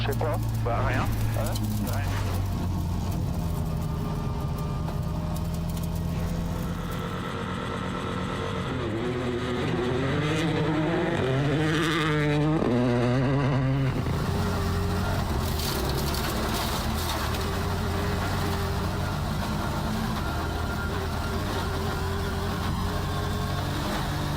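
A WRC2 rally car on a gravel shakedown stage of the Acropolis Rally in Greece roars past with a rising and falling engine note, loud and close, under continuous commentary.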